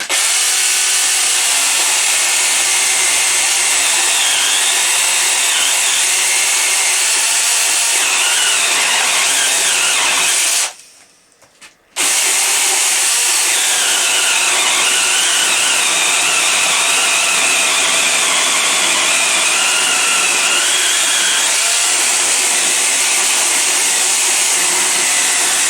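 A Lidl Parkside PKSA 20-LI A1 cordless chainsaw cuts through hardwood with a loud, sustained buzzing whine, briefly stopping for about a second midway before resuming and running steadily to the end.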